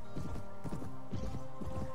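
Horse hooves clip-clop steadily in the Mount & Blade Warband: Viking Conquest medieval video game, with a few clusters of hoofbeats over a constant low in-game hum and drone, close and moderately loud.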